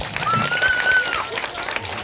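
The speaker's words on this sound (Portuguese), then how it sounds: "a salva de palmas" Children and adults at a community gathering in a village give a round of applause, a short, somewhat scattered clapping with crowd noise and a whistle-like tone briefly rising over it.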